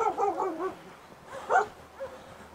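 Hungarian-breed dog barking outdoors in a village garden, a few short yelping barks in separate bursts at moderate distance with quiet gaps between.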